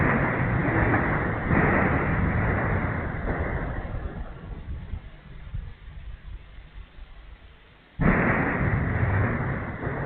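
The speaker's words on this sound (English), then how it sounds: "You're going to hear multiple explosions of Ukrainian UAVs in the background." Drone strikes in Russia's Rostov region, near a metallurgical plant, send out repeated heavy, distant explosions, dull rumbling booms rolling in and out over about ten seconds, with one sharp loud blast near the end.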